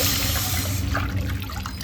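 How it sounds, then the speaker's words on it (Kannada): Tamarind water poured into masala frying in a pan for horse gram rasam, a steady loud rush of liquid with faint sizzling beneath, no voices. "ನಾವು ರೆಡಿ ಮಾಡಿದ ಹುಣಸೆ ಹಣ್ಣಿನ ನೀರನ್ನು ಸೇರಿಸ್ಕೊಳ್ಳೋಣ."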